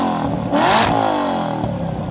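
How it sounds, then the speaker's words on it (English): Supercharged Koenigsegg CCR sports car engine and exhaust roaring loud and close, with a sharp rev burst and whine around the middle before settling into a sustained growl. "The engine makes a lot of noise, the exhaust makes a lot of noise."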